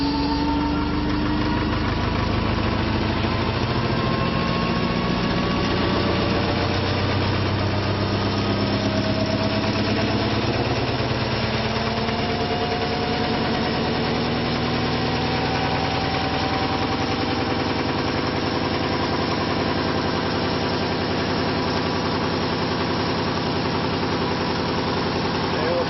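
A ReGen-X generator motor runs at 600 RPM in a continuous, steady mechanical drone with a low hum and slowly shifting whine. It is loud and close throughout, with no break.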